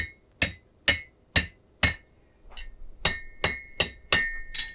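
A blacksmith hammers hot iron over the edge of an anvil, with four evenly spaced ringing blows, a short pause, then a quicker run of five sharp strikes, close and clear with no talk.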